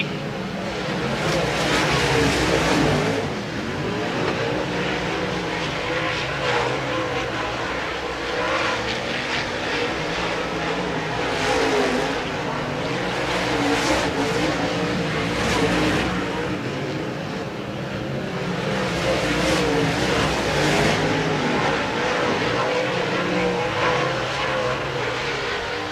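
Modified race cars roar around an oval speedway in an American Racer Modified Series race at Route 66 Motor Speedway, a dense, continuous engine drone that swells and fades as the pack passes, with crowd and announcer noise underneath.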